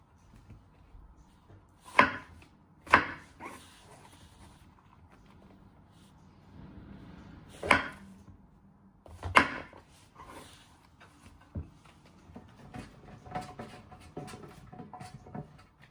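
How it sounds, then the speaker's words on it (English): A knife chops the ends off a courgette on a board, several sharp, separate thuds spaced a second or more apart, close and clear over a quiet background, followed by lighter, fainter cuts and handling. "You first want to chop your ends."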